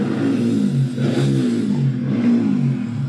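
A motorbike engine revs repeatedly outside at night, rising and falling in rough surges, loud and close, with no talk over it.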